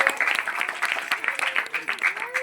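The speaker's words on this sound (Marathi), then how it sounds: "सर्वांनी टाळ्या वाजून त्यांचं स्वागत करायचं आहे" An audience claps steadily to welcome a team at a Home Minister women's contest held by a Ganesh mandal in Ahmedpur, with a voice talking over the sustained applause.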